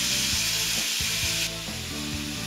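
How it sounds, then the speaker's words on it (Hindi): Tandoori chicken cooking in a pan on low heat, a steady close sizzle and crackle with faint scraping and rubbing sounds, and no talking. "इसे हमें अच्छे से पकाना है कम आंच पे ताकि हमारा चिकन जो हो सॉफ्ट भी हो, जूसी भी रहे"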